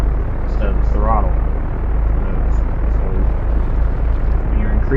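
Seaplane engine in the Lake Hopper video game, a steady propeller drone running continuously beneath someone talking throughout.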